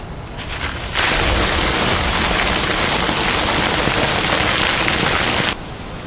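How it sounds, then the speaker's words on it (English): Rain falling outdoors in a garden, a loud, dense, steady hiss that starts abruptly after a second and holds for about four and a half seconds before dropping back. "Whoa, it's raining."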